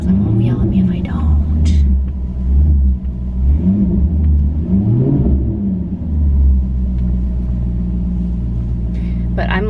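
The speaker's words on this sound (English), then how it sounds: "I'm warming up my car because my mom will yell at me if I don't." A car idles with a steady low rumble while it warms up, the engine running continuously for about ten seconds and someone talking over it in the foreground.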